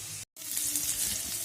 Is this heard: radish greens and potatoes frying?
yes